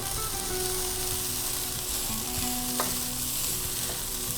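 Pumpkin and pumpkin seed fried rice with cooked white rice sizzles loudly and continuously in a hot pan as it is stir-fried, a dense steady crackle with faint scraping of the utensil.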